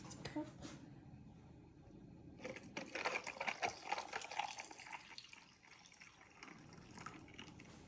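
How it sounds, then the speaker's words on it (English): Coffee is poured into a cup filled with ice, making a soft trickling, splashing stream for several seconds. The pour is quiet and close, with faint handling noise before and after. "We will go ahead and pour the coffee"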